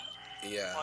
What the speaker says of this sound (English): because I hear the rooster in the background too.